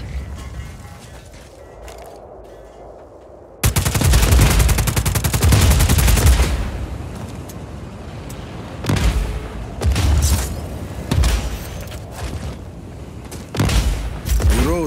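Gunfire from a weapon being tested in the video game Just Cause 4, a loud sustained burst of rapid shots followed by several shorter, punchy volleys with booming low end.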